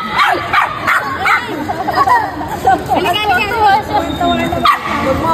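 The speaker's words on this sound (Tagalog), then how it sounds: "Ang daming tumatahol." Several dogs bark and yip in quick bursts over a busy background of chattering voices at a family reunion, with a few whimpering, higher yelps mixed in.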